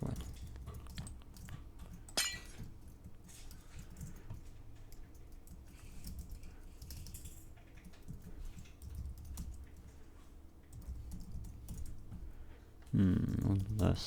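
Someone types on a computer keyboard in quick, irregular runs of soft clicks and taps close by, with low background noise and a brief louder rustle near the end.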